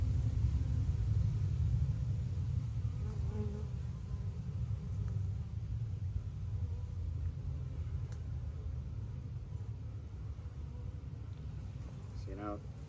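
Honey bees hum in a low, steady drone throughout a beehive inspection, a continuous close buzz with no clear breaks.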